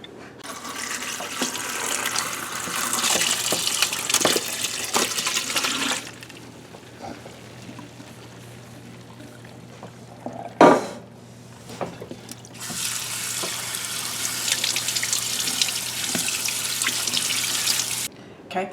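Tap water runs into a kitchen sink while canned peppers are rinsed and drained, a steady broadband splash in two long stretches separated by a quieter pause with a brief clunk.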